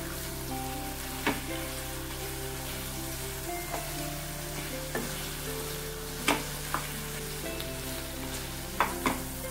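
Tofu being stirred lightly into sweet and sour sauce in a hot frying pan, giving a continuous even sizzle broken by occasional sharp spatula taps against the pan.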